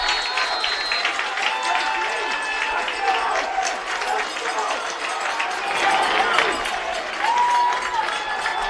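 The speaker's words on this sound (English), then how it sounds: "The Salve defense wants the Salve crowd to make noise." College football crowd at a Salve Regina home game against Montclair makes noise on a fourth-down defensive stand, a continuous roar of cheering and clapping with a few whistles, rising and falling over nearly nine seconds.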